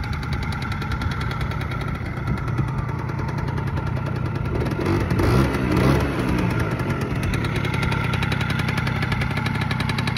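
A Honda Spree NQ50 scooter engine, revived after sitting 20 years, idles steadily with a rapid, even putter, swelling slightly in the middle before settling back to a smooth idle.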